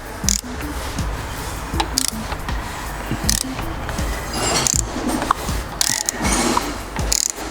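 A 2.0 TFSI engine in an Audi Q5, fitted with a new timing chain, turns over in a workshop, making a dense, continuous mechanical clatter with rapid ratcheting clicks throughout.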